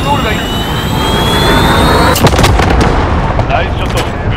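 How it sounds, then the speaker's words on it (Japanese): A cruise missile launches in the shooter game Call of Duty: Modern Warfare with a loud, sustained jet-like roar and a sharp burst partway through, then the noise thins out and fades. "巡航ミサイル発射。"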